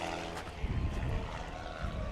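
A Super Patriot airplane taking off at the Sun 'n Fun air show in April 2022, a steady, rumbling propeller-engine drone heard from a distance, continuous and fairly even, with no clear voices over it.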